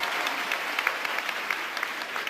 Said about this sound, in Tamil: இந்த கைத்தட்டலே தெரியலையா